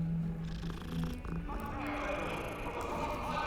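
A cat purring in the Hogwarts Legacy video game, a soft continuous low rumble sitting faintly under background game music and ambience.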